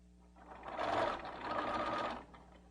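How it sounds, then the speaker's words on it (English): A sewing machine stitching binding onto a garment neckline, one steady mechanical whirr that speeds up, briefly slows, then runs again before stopping, close and fairly quiet. "So you want to keep this stitching as smooth and even as you can. And the free arm really helps. The needle down really helps."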